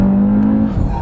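A 2018 Audi RS3 engine revs hard at about 4,500 RPM after a downshift of a couple of gears, a loud, steady close-up drone that rises in pitch and swells toward the end.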